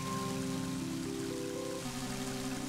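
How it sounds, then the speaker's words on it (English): Steady rain falling in the video game Mother 3, a continuous wash of patter mixed with in-game music, with no talking. "it's starting to rain"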